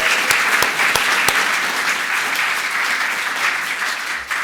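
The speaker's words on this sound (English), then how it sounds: "Mr. AV, let's give him a round of applause." An audience applauds steadily throughout, a dense wash of many hands clapping with a few sharper claps standing out near the start.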